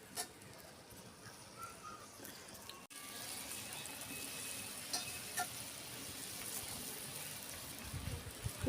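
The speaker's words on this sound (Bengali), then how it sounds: "ফুটছে।" Fish curry bubbling and sizzling steadily in a pan, a continuous close bubbly simmer with a brief break near the start, a few faint clinks, no talking.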